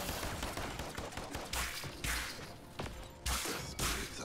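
Rapid sniper rifle shots ring out in the online shooter Strix, sharp loud cracks in quick succession with whooshing tails, several blasts close together and no talking.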